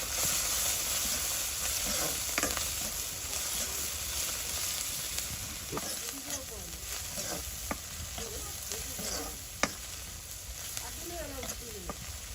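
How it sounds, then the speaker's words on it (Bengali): Small isha shrimp frying in hot oil in a rural Bengali kitchen make a steady, close sizzling hiss, with occasional stirring scrapes and a sharp clink, while faint voices murmur in the background. "ইসা মাছগুলো আগে একটু ভাজি করে নিতে হবে"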